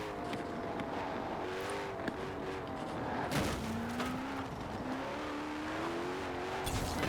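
Koenigsegg hypercar in the racing game Forza Horizon 4 revving and accelerating out of corners, a steady engine drone with rising gear-shifted pitch sweeps and brief tire squeal, continuous and fairly loud throughout.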